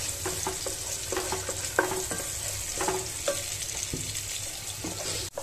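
Onion, tomato and whole spice masala sizzle steadily in a hot pan while a spoon stirs through it, giving a constant close frying hiss with repeated scraping strokes and no talk.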